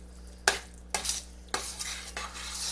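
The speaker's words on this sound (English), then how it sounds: "Stirring it every now and then to make sure we don't have nothing sticking." Pasta simmering in sauce is stirred with a utensil in the pot, giving several distinct scraping strokes at a slow rhythm over a low, steady bubbling sizzle, close and clear with no talking.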